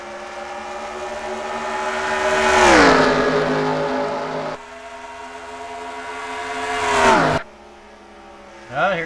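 Race cars roar past one after another during an oval race, engines rising to a loud peak and dropping in pitch as each car passes close by, then cutting off abruptly before another car approaches.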